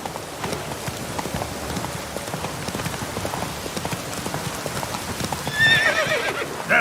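Horse hooves clip-clopping steadily in a video game, close and rhythmic over a soft rain-like patter, with a brief whinny near the end.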